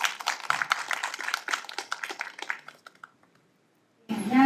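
An audience at an anniversary academic forum applauds in a dense patter of hand claps that thins and fades out over about three seconds, followed by brief silence and a sudden burst of another noise.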